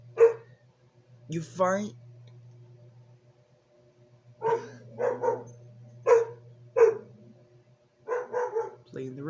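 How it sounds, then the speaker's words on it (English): Dogs bark in several short, sharp bursts spread across the stretch, fairly close, mixed in with a person talking and a low steady hum underneath. "sorry, that's the dogs"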